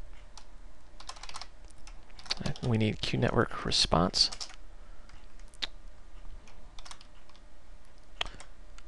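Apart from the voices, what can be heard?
typing on a computer keyboard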